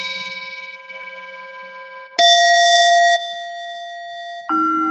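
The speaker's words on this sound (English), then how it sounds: "And these beautiful bells." Clear, sustained bell-like chimes from a meditation app ring with steady tones, one after another, changing pitch in distinct segments; no talking.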